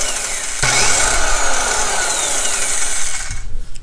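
A TACKLIFE circular saw with a metal handle spins up with a sharp start and runs at a loud, steady high whine for nearly three seconds, then winds down.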